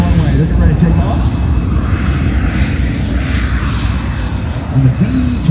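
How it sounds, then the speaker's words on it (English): The B-25 bomber Yellow Rose runs its engines up before takeoff at the Wings Over Cowtown airshow at NAS JRB Fort Worth. Its piston propeller engines give a loud, steady, rumbling drone that fills the whole clip. "the B-25 Yellow Rose has engines cranking and they're getting ready to take off"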